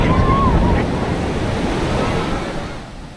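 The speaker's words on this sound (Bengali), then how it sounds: "সমুদ্রের গর্জন আর লোকের চেঁচামেচি" Sea waves roar on the beach at Puri, a loud, continuous surf rush with strong wind buffeting the microphone, fading slightly toward the end.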